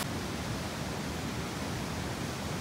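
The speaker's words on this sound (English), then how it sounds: "everywhere you can hear the roaring of the water" Roaring water at Plitvice Lakes in winter, among ice and snow, heard as a steady, dense broadband rush that stays constant throughout with no voices.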